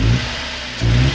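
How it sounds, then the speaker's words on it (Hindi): A Suzuki Liana engine with a misfire revs in two short bursts, at the start and the end, with a rough, uneven idle between them, heard close and loud. "अगर मैं इसको रेस दे रहा हूँ तो साउंड फील करें"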